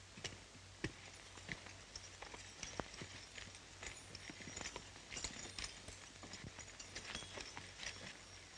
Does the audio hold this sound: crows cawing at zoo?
no